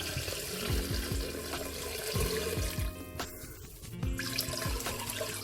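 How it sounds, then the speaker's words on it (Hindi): Water pours into a pot of mixed red lentils for a Punjabi dish, a steady close splashing wash with a few faint clinks of the pot or utensil. "मिक्स करने के बाद अब हम इसमें पानी डाल देंगे।"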